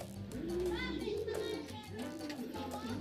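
Racing pigeons coo in low, throaty, rolling calls close by during a training release in Tayabas, Quezon, with distant children's voices and general outdoor activity in the background.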